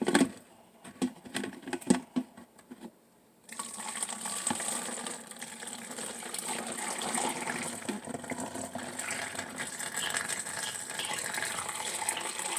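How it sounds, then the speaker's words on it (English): Hot strained cranberry pineapple juice pours into a container in a steady, continuous liquid gush, after a few scattered knocks and clinks at the start. "now I'm going to pour it inside of here"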